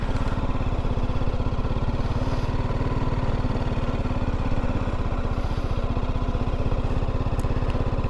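Motorcycle engine with a steady, close, pulsing putter throughout, riding slowly with only slight rises in throttle, no voices.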